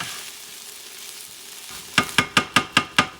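Rice with sardines stirred in a frying pan: steady sizzling fills the background, then about six sharp, evenly spaced scrapes of the spoon against the pan ring out loudly near the end.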